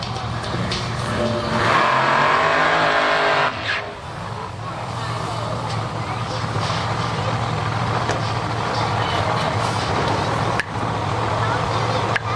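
A Cadillac drag racing car at a nitro drag racing event revs loudly with a steady engine drone, then surges as it launches down the strip, heard from a distance over continuous crowd and track noise.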